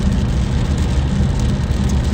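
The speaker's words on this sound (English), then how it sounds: "Yeah, it's raining quite a bit." Heavy rain drums steadily on a car while driving, a dense continuous wash of patter over the low road and engine rumble, loud and unbroken throughout with no voices.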